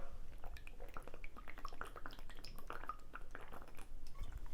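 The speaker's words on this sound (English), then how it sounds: "So if I literally drink some water" Someone drinks water from a HidrateSpark 3 smart water bottle, with close, wet gulping and swallowing sounds and small liquid drips repeating steadily for several seconds, with no talking.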